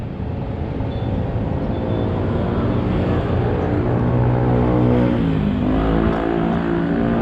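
A 50cc KXD motorcycle engine runs steadily and fairly loudly, a low continuous drone that swells slightly and dips in pitch near the end, with no voices.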